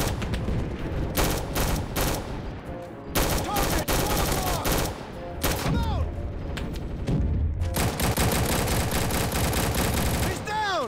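Rapid bursts of gunfire from a Roblox shooter modeled on Call of Duty, dense volleys and single shots clustered through most of the stretch with short gaps, loud and close over game effects.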